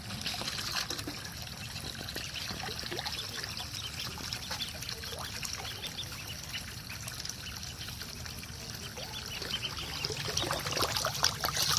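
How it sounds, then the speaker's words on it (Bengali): Fresh water pours steadily into a small artificial tank holding ducklings, a continuous trickling splash throughout, with faint bird chirps mixed in. "পানিটা নতুন পানি দেওয়া হচ্ছে"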